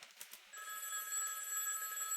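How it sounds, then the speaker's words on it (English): A telephone rings with a bright, electronic trill after a few soft knocks, sustained to the end. "I hear a phone call."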